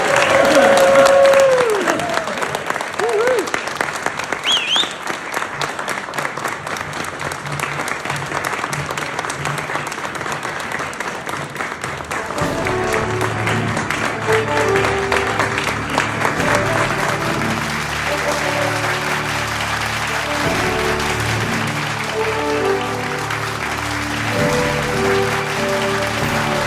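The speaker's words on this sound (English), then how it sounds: "Please give a wild round of applause to" Sustained applause from a concert-hall audience at a university music award ceremony, a dense wash of clapping that carries on for nearly half a minute, with a few voices and cheers mixed in.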